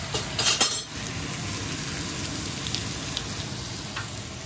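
Marinade of onions, soy sauce, pineapple juice and ginger poured into a hot pan with ribeye steak, bursting into loud close sizzling with clinks of utensils, then settling into a steady frying hiss.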